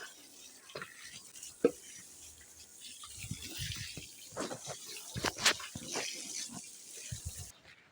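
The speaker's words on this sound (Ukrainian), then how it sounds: "Наношу водички і все." Water splashes and trickles irregularly onto greenhouse garden beds during sowing, with soft gurgles and a few louder splashes, close and fairly quiet, with no talk.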